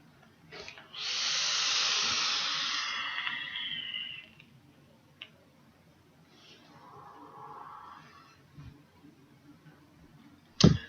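Vaping on a Velocity RDA atomizer with its airflow opened up: a long, steady breathy hiss of inhaled air for a few seconds, then a softer, shorter draw, with small clicks and a sharp tap at the end.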